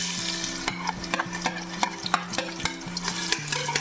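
Cloves, cardamom, mace and sliced onion fry in ghee for ghee rice, a soft sizzle broken by regular sharp scrapes and taps of a spoon stirring the pan, close and without speech.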